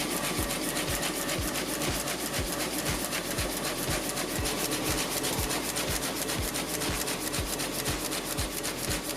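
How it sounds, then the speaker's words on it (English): Komori offset printing press running in a yearbook printing plant, a fast, steady mechanical thumping cycle with a dense whirring and rubbing noise over it, loud and continuous, no talking. "The familiar sights and sounds of the press room."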